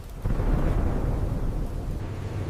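A loud thunderclap in a storm, a sharp onset followed by a heavy, sustained low rumble that gradually eases, with no speech over it.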